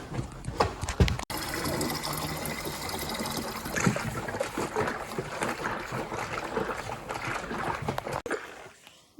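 Water is poured and mixed into straight antifreeze in the coolant of a 1995 Ski-Doo Formula 3 snowmobile, a steady close sloshing and trickling wash that runs throughout before cutting off near the end.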